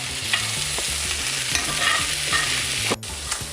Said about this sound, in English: then we're going to be adding 2 tablespoons of flour. And that's just gonna help it thicken up because this is gonna be our gravy after all. And we're just gonna stir that in together.